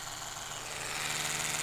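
Oral-B electric toothbrush running with a steady, continuous high-pitched motor whine and hiss, alone and unbroken throughout.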